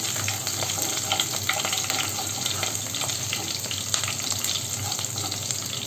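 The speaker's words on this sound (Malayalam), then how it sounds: "അതോടൊപ്പം തന്നെ പച്ചമുളകും അരിഞ്ഞത് ചേർക്കുന്നുണ്ട്. നന്നായിട്ട് ഒന്ന് ഇളക്കി കൊടുക്കാം." Ginger and chopped green chilli sizzle steadily in hot oil for vermicelli upma, a continuous crackling fry with faint scraping of a spoon stirring throughout, no voices.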